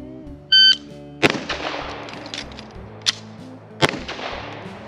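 FLUX Raider X pistol firing a few sharp, spaced shots, each a close crack with a short decay, preceded by a brief electronic beep, with no talking.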